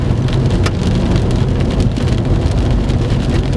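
Heavy rain from a severe thunderstorm capable of producing a tornado in Reynolds, Indiana, pounding loudly and continuously on a surface close by, a dense unbroken roar with no voices.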